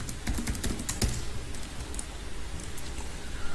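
Python code being typed on a computer keyboard: quick clusters of key clicks, denser at first then sparser, moderately close with no talk.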